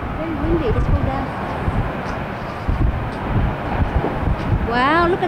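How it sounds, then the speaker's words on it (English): Strong wind buffets the microphone with a constant heavy rumble outdoors near a gas line fire, while people talk over it. "Very windy."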